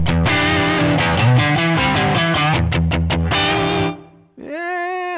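An electric guitar played through a Line 6 Pocket POD's British high gain amp model with room reverb rings out as thick distorted chords and riffs, stops briefly, then returns with a single gliding bent note.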